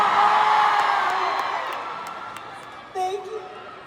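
Crowd cheering and whooping at a live concert at Araneta, loud at first and fading, with a few high yells near the end.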